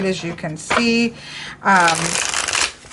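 Riffle shuffling of a Lo Scarabeo tarot deck with glossy cardstock, heard as two quick papery ripples of the cards cascading together while a person talks over them.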